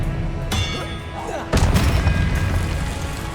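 Spell effects from the Hogwarts Legacy video game: booming, clanging magical blasts over a steady rumbling background, with a sharp burst at the start and a heavier, louder impact partway through.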